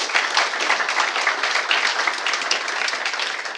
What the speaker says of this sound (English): Shall we applaud for them?